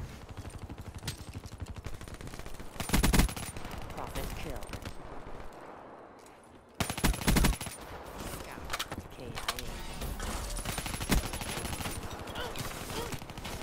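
Bursts of automatic gunfire in Black Ops 3 on the Nuketown map, loud rapid volleys that come and go over continuous game noise, with players talking.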